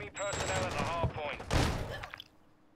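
Gunfire in a Call of Duty Modern Warfare 2 ranked match, a loud burst of shots cutting in beneath excited shouting voices before fading out.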